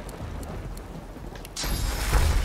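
Video game rain hisses softly in the background, then a burst of heavier downpour and a low thunder rumble swell in sharply for the last second.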